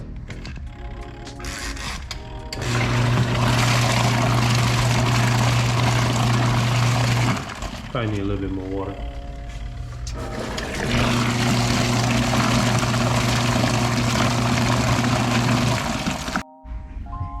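A small portable washing machine churns detailing polishing pads, its motor humming loudly and steadily with sloshing water, pausing briefly midway before restarting; someone speaks briefly over it.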